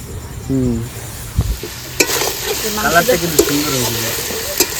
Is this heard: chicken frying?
yes